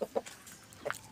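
A Japanese Shamo hen gives a few short, soft clucks in quick succession, close by, with a brief pause between them.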